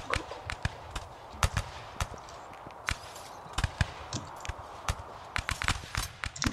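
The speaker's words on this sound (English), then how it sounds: "We have a couple of cavalry units over there" Cavalry horses in a Rise of Liberty battle game, hooves clattering in quick irregular bursts over a low rumbling battlefield ambience, fairly faint and without talk.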